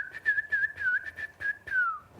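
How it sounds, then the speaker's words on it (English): A person whistles a short, bright tune of about eight quick, separate notes over two seconds, close and clear, ending on a gliding falling note. "Whistling."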